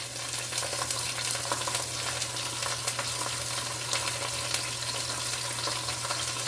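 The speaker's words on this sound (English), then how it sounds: "you can hear how the pan is hot and sizzling" A beef roast sears in a hot pan, giving a constant close, loud crackling sizzle with a faint steady hum beneath and no talk.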